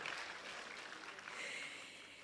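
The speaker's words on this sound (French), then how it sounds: "Applaudissez pour les fameux hommes de radio" Audience applause for radio hosts at an environmental media awards ceremony, a faint, steady wash of clapping heard from a distance with no voices over it.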